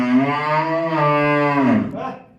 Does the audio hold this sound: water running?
no